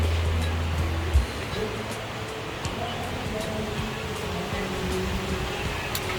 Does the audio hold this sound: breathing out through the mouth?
no